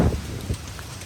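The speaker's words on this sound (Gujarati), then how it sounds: "વરસાદ કંઈ પડે છે યાર" Rain falling outdoors, a soft, steady hiss of drops with a couple of low thuds at the start, brief and fairly close.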